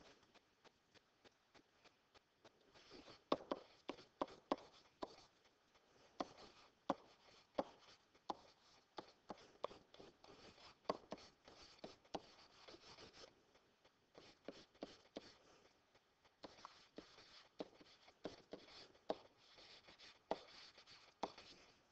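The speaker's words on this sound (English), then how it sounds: "I'll write that down real quick." A pen or marker writing out a geometry homework assignment on a board, with close tapping strokes and scratchy scribbles in uneven bursts over about twenty seconds, with no talk.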